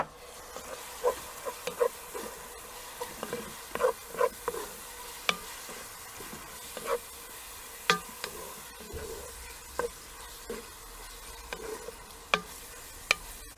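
Minced meat with tomato paste sizzles in a Dutch oven and gets stirred, making a steady frying hiss broken by regular scraping strokes of the spoon against the pot, close up and without speech.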